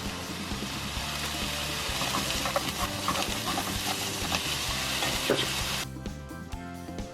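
Pork and mushrooms frying in a pan give a steady, close sizzle with faint stirring clicks that drops away sharply near the end.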